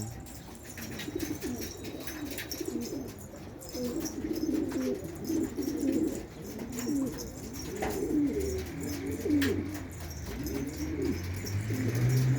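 Pigeons coo repeatedly in a loft, soft throaty calls overlapping in uneven bursts, close by over low background noise and a few faint chirps.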